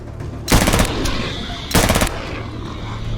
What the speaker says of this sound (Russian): мы полностью изменили принцип озвучки стрельбы у автоматического оружия, что позволило улучшить качество его звучания, сделав стрельбу мягче